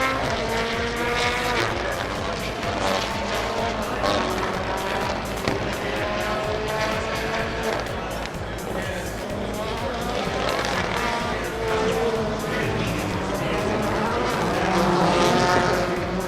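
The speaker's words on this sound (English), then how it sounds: "The Volkswagen Beetle has a unique sound when gearing down, so different from the others." Volkswagen Beetle rallycross car gearing down at Bushy Park, Barbados during Red Bull Global Rallycross 2015 round 11, as loud engine roar with stepped pitch drops blending with other race cars and a commentator's voice throughout.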